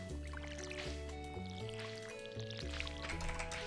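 Watering crops with a watering can in Stardew Valley, a soft pouring splash sound heard faintly under cheerful game music with steady melodic notes, no speech.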